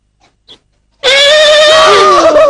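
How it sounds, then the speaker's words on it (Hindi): A goat bleats loudly and close, one long, wavering, nasal cry that suddenly fills the clip after a second of near silence broken by two faint clicks. "अरे उसकी तो बकरी है।"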